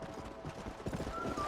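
Horse hooves clip-clop in a Red Dead Redemption game scene, a quick series of soft, close hoofbeats with a faint whinny, accompanied by quiet speech.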